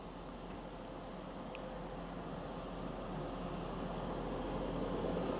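Rumble of a Hull to Manchester Piccadilly passenger train heard from the platform or on board, a steady low mechanical drone that gradually grows louder, with no voices.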